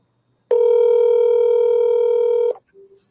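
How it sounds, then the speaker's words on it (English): A single steady telephone ringing tone lasts about two seconds, then cuts off, leaving near silence with a faint blip. "Okay, it's ringing."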